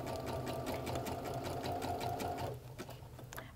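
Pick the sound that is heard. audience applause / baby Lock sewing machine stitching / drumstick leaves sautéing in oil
baby Lock sewing machine stitching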